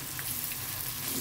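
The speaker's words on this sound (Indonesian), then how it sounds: "Ini digoreng setengah matang aja ya, nggak perlu sampai matang." Sliced tempe frying in hot oil, a steady close crackling sizzle with no voices.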